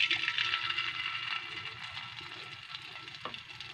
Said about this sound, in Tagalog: Ipiprito tayo.